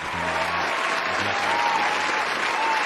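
Dense, steady applause fills the whole stretch, loud and continuous, with faint low tones droning underneath.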